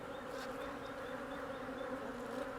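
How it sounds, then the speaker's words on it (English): Honey bees gathering at a hive being requeened, a steady dense buzzing hum from many bees, close and continuous without pause. "these bees from that original hive are all gathering up there"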